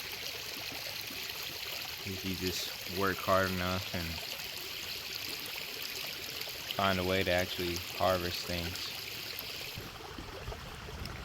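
Creek water flowing steadily on off-grid land, a continuous soft rushing wash that runs beneath a voice for the whole stretch.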